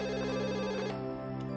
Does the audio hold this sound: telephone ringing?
yes